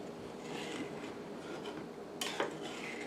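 Sausage gravy being stirred in a pan, soft scraping with a few light clinks of a utensil against the metal, quiet and close with no one speaking.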